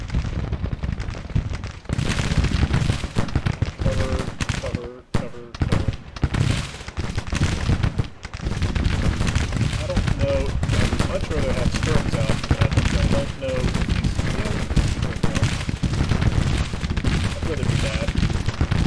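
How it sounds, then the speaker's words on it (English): Artillery field guns and howitzers in Grand Tactician: Civil War fire in a dense, continuous barrage of booming reports and rumble, loud and sustained throughout, with a voice talking over parts of it. "Yeah, the artillery is shooting at something."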